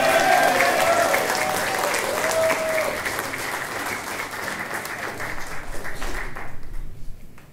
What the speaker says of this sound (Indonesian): Tepuk tangan yang paling meriah untuk Rifky.